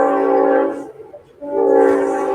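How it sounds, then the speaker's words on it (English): A Long Island Rail Road train passes in the background, sounding a sustained loud horn in two blasts with a brief dip between them over a low rumble. "Sorry about that train."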